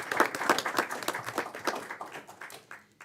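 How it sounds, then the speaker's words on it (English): Scattered clapping from a small audience at a city council meeting, a handful of distinct claps that thin out and fade over about three seconds. "Let's give them a round of applause for all their success this year."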